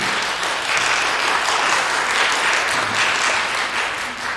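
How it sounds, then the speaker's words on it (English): An audience applauds panelists at a Japan-focused roundtable event, a dense, even wash of many hands clapping that stays loud and steady for over four seconds with no voices on top. "So let's give a round of applause for our panelists today."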